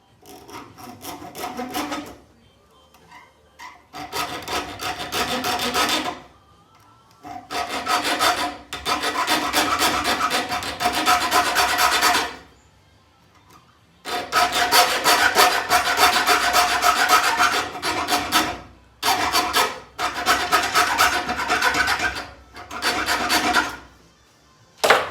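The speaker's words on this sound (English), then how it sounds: "I start with a hacksaw blade just" A hacksaw blade cutting a string slot into a wooden longbow arrow, a close, dry rasping in repeated bursts of quick back-and-forth strokes separated by short pauses.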